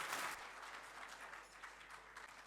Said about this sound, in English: A round of applause is well deserving.